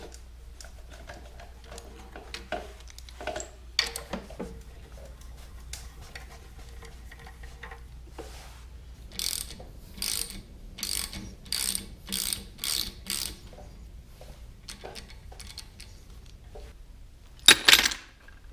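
A ratchet clicks in quick bursts as studs are backed out of a Caterpillar D2 diesel engine block, with scattered metallic taps and a sharp clank near the end, quiet and close.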